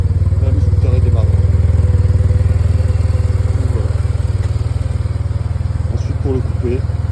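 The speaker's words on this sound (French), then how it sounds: "Appuyer sur le frein et le bouton on et le scooter démarre." Yamaha TMAX 560 scooter engine idling steadily just after starting, a loud continuous low throb with a slight rattle, heard close up while someone talks over it.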